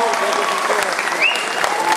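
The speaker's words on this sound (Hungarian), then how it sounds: "Egy tapsot kérek neki!" Sustained applause from the audience at a christening celebration, steady dense clapping filling the whole stretch with a faint voice rising through it.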